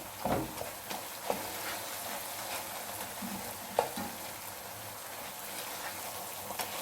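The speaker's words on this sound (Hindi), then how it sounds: "मुझे ज़्यादा भुना हुआ हलवा पसंद है, लिहाजा मैं थोड़ा सा और भूनूंगी।" Makhandi halwa roasting in a pan, with a steady frying hiss and a few sharp scraping clicks of a spoon as it is stirred, close and fairly loud with no voices.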